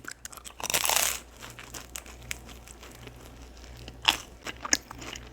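Crunchy bites into a crisp, buttery Domino's pizza crust followed by moist chewing close to the mic, with a few sharp crackles and no talking.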